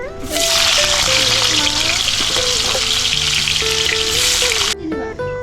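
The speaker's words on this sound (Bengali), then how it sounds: "এরপরে আমরা এখানে আলুটাকে একটু ভেজে নেবো" Potatoes fry in hot oil with a loud, dense hiss that runs steadily before cutting off near the end, while a wavering melodic tone plays over it.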